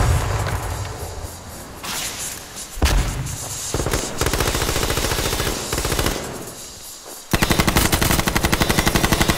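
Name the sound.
gunfire in the video game H1Z1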